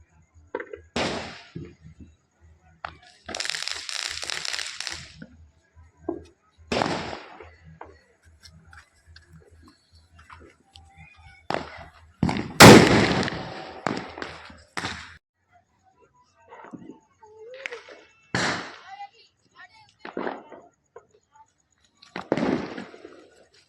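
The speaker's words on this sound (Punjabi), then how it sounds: "ਹੁਣ ਚਲਾਉਂਦੇ ਆਪਾਂ ਆਤਿਸ਼ਬਾਜ਼ੀ" Diwali fireworks and firecrackers in a busy market, a series of sharp cracks and bursts spaced every few seconds, some louder and closer than others, with quieter crackling between.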